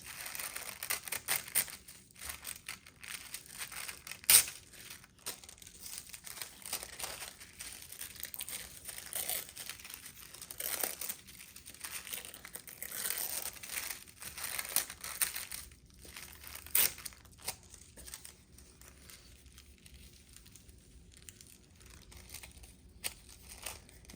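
Paper is torn and crumpled by hand for a Tim Holtz style paper collage, giving faint, close, intermittent rips and crinkles with a few sharper tearing bursts and no voices.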